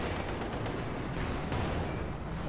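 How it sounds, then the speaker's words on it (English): Vetted Grenadiers' gunfire in a real-time strategy battle, a dense, continuous crackle of rifle shots mixed with distant explosions, loud and steady throughout. "2 of the vetted Grenadiers are gunning the conscripts down"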